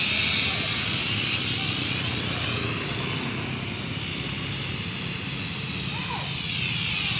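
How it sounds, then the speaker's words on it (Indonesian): A Dongmingtuo X8 camera drone flies at its top speed setting, speed 3, giving a continuous high buzzing whine that stays fairly faint and steady from start to finish. "Itu dia drone-nya speed 3 tuh ya."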